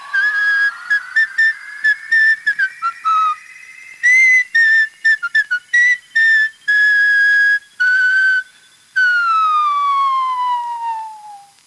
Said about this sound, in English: To escape from a straitjacket in mid-air whilst whistling Rule Britannia.